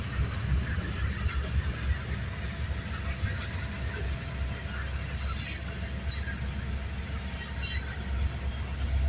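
A CN freight train of gondola cars rumbles past at a moderate distance, a continuous low rolling drone with brief high wheel squeals now and then.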